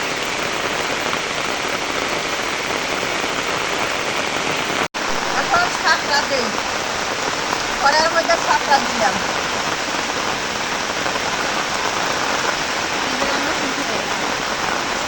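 A steady roar of heavy rain beats down around someone standing outside with an umbrella, broad and constant, broken by a brief click near the middle and faint indistinct sounds partway through.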